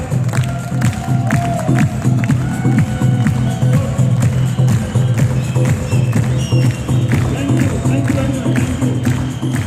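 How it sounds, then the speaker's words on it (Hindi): An audience claps loudly and steadily for nearly ten seconds, a thick wash of hand claps mixed with crowd noise and scattered cheering voices close by. "तो तालियां"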